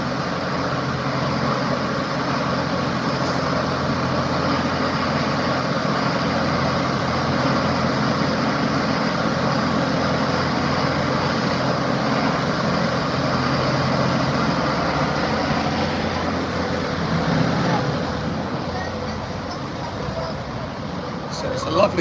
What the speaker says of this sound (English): It's just a lot of traffic.